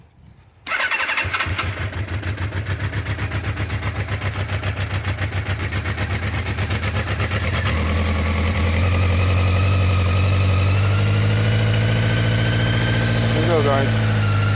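A Honda CB650 Nighthawk motorcycle engine fires up after a carburetor overhaul and settles into a loud, steady, close idle that holds throughout, with someone speaking briefly over it.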